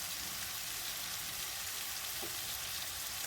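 Chicken cutlets seasoned with salt and pepper fry in a pan, giving a soft, even crackling sizzle that holds steady without any voices.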